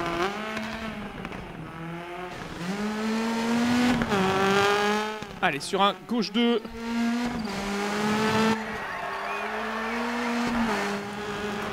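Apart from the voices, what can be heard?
Ford Focus rally car driving, from video game DiRT 4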